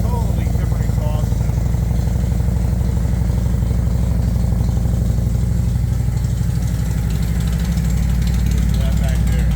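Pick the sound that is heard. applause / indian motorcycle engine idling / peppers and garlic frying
indian motorcycle engine idling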